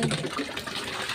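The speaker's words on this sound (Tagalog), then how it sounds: "Ang bomba ng tubig." A hand water pump (bomba ng tubig) gushes water during laundry washing done without a washing machine, a brief, close, steady rushing splash.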